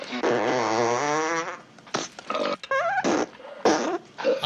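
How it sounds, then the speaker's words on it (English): A rapid string of fart and burp sound effects, long wavering buzzy blasts followed by short sputtering bursts, loud and close with gaps of silence between them. "this montage of gas sounds is inappropriate for this segment"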